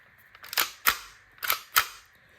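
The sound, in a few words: magazine removed from Tokyo Marui airsoft pistol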